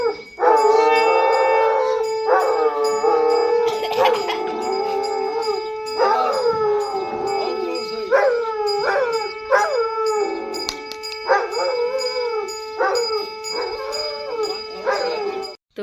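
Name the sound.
dog howling along with a conch shell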